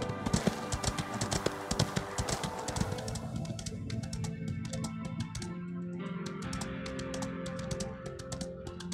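Horse hooves clip-clopping in a steady galloping rhythm while riding in the video game Ostwind, close and clear over soft background music, the hoofbeats thinning out midway and then continuing lighter, no talking.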